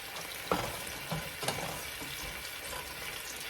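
Celery and onion cook with added water in a pan for stuffing, giving a steady soft hiss and bubble with a few brief stirring knocks near the start.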